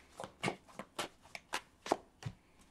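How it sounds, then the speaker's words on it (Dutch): Tarot-style cards shuffled for a weekly horoscope reading give soft, rhythmic riffles, about eight quiet, close bursts spaced evenly. "En de kaarten schudden om te kijken wat deze week voor jou gaat brengen."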